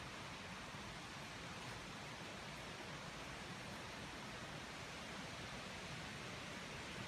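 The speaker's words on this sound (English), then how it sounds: "This is a beautiful waterfall very close by to Beddh Taliesin, to Taliesin's grave" Waterfall near Taliesin's grave in Wales, a constant broadband rush of falling water, even and unbroken, heard alone without voices.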